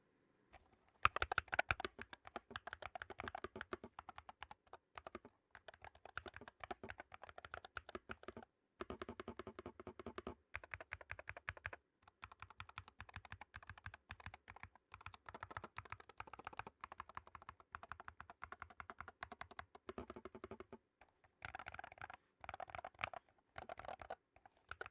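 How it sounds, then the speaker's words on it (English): Typing on an Attack Shark X68 HE wired gaming keyboard with Hall Effect magnetic switches, producing steady, close, rapid keystroke clacks in continuous bursts with brief pauses, no speech. "This is the Attack Shark X68HE. It's a Hall Effect magnetic switch keyboard."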